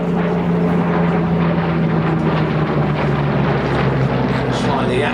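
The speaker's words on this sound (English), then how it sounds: "Hawker Hurricane V7 497, being flown for us today in his second appearance at this show by Ian Austin." Hawker Hurricane Mk.I with a Rolls-Royce Merlin III engine flies over an air show, a steady, loud piston drone with a constant low hum, and voices mixed in beneath.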